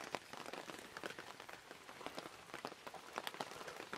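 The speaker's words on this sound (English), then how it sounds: "Rainy, wet day." Steady rain patters across a lakeside campsite among tents in Minnesota, a dense continuous hiss of drops with scattered sharper taps, moderately loud and unbroken for the whole stretch with no voices.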